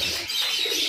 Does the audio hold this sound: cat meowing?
no